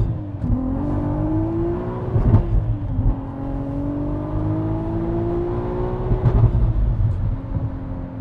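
A manual-swapped 550HP turbocharged VW MK5 R32 accelerating through the gears, a steady rising engine drone with whir, two brief shift dips, heard from inside, no talk.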